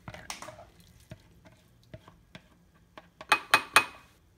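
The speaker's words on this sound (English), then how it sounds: "And then I'm going to pour them back in the bowl." Strained milk kefir grains are poured back into a bowl, giving soft wet drips and light clinks that end in three louder, closer taps, with no talking.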